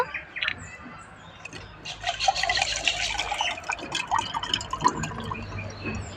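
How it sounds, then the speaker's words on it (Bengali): Water poured into a glass of lemon drink with ice, a splashing, trickling pour with clinking, close and moderately loud, steady for several seconds with no talking. "জল দেবো"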